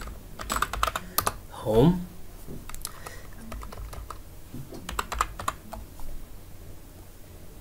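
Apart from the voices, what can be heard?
typing on a computer keyboard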